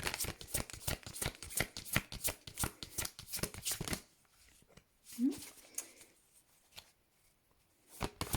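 Herbal astrology cards riffled and shuffled in a quick, dense run of papery slaps for about four seconds, then a quieter pause with soft handling rustles and a final brief flutter of cards.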